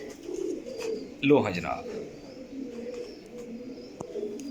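Sialkoti pigeons coo softly in the background while someone talks close by, with one brief louder burst near the start.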